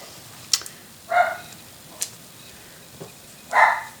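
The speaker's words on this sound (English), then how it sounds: "Everything what moves in front of the window, they will bark." Two dogs indoors bark in short, sharp bursts at movement outside a front window, with clicks and small noises between the barks.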